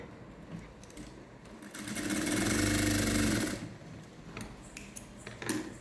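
A sewing machine runs a short test line of stitches on a scrap of waste cloth for a woollen-thread patchwork blouse, a steady mechanical whir rising for about two seconds and then stopping, with small handling clicks around it.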